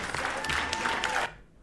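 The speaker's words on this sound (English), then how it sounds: "Is the cheer working?" A short burst of recorded cheering and applause rings out loud and full, then cuts off abruptly near the end.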